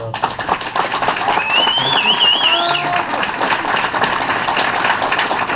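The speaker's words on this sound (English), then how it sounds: "So a round of applause for" Applause from a room of employees at a company year-end party, steady clapping sustained throughout with crowd noise and some overlapping voices and a whistle-like tone mixed in.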